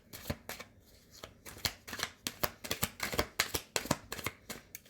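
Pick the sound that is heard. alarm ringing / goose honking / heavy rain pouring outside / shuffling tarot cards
shuffling tarot cards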